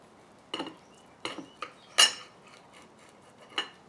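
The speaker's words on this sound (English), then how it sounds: "Now, what I want to do is slice the tuna" A knife slicing through tuna steak on a board, several separate short cutting strokes with brief clinks, close and clear against a quiet background.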